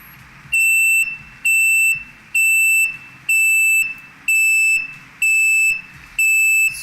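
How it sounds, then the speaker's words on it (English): An electronic buzzer powered at 8 to 12 volts beeps in a steady on-off pattern, seven loud, shrill pulses of about half a second each, evenly spaced with short gaps. "So here you can see as the buzzer is going off"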